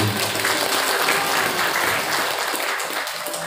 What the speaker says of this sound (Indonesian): Tepuk tangan buat ayah dan putri.